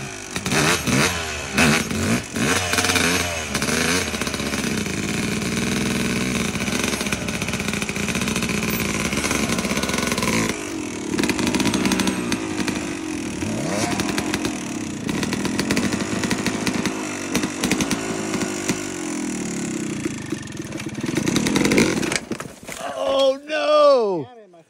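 Enduro dirt bike engine running loud and close, held at a steady rasping drone with brief revs for most of the stretch before cutting off near the end; people speak over it.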